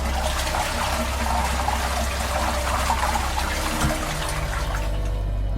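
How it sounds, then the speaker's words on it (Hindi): A toilet flushes in a bathroom off a bedroom, a steady rushing and gurgling of water over a low hum that stays constant at moderate volume throughout, with no voices. "बेडरूम के अंदर से बाथरूम का फ्लश चलने की आवाज आई"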